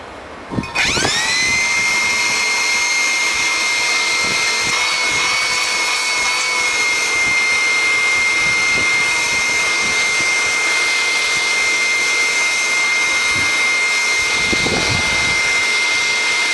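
A repaired Dirt Devil vacuum cleaner starts with a quick rising whine and then runs loud and steady, a high motor hum with airy suction noise throughout.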